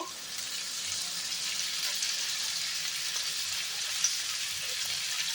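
Chicken tikka pieces frying in oil in a pan give a steady, even sizzling hiss with faint crackles throughout, close up and without voices.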